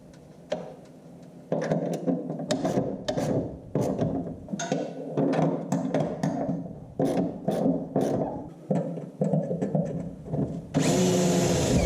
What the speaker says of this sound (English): I'll just work my way up through bit sizes until I get to the 17/32 bolt size